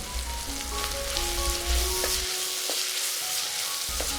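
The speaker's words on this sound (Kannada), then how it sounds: "ಟೊಮೆಟೊ ಸಾಫ್ಟ್ ಆಗೋವರೆಗೂ ಹುರಿದುಕೊಂಡು" Chopped tomato and fresh peas fry in a pan for tomato rice, a steady close sizzle with stirring scrapes throughout, no voices.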